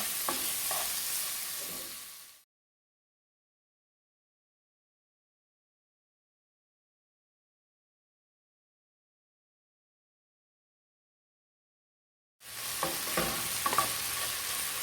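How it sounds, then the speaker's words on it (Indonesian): Chicken frying in a pan with ground coriander and black pepper, stirred and sizzling; the stirring comes in a short burst at the start, falls into a long silence, then resumes near the end. "Kita aduk sampai ayamnya layu."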